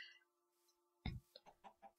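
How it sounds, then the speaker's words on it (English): Chickens cluck in a Minecraft world, a short run of four or five quick, choppy clucks following a sharp thump, close and clear with no talk over them. "Let's kill this chicken. Give me your chicken."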